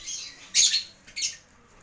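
Lovebirds in a simple home cage give two loud, harsh squawks in quick succession, shrill and close, with quieter chatter before and no talking.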